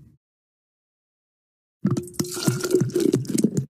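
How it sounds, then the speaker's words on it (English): In a children's cooking game, water pours into a bucket for brine: after near silence, a close gurgling, splashing fill starts and continues with bubbly, watery pulses. "First, put the water in the bucket."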